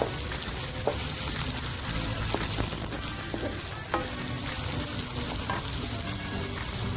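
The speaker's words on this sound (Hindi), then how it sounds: "साथ में ये होल गार्लिक के जवे जो थे वो भी डाल दीजिए ताकि ये भी इसी के साथ फ्राई हो जाए" Whole garlic cloves sizzle in hot oil alongside mutton liver in a pan, a loud, steady frying crackle running throughout with occasional sharp pops and a few stirring scrapes.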